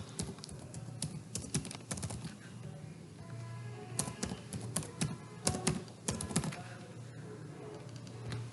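A password is typed on a computer keyboard to set up a Scratch account, giving close, irregular bursts of key clicks and taps with short pauses between runs.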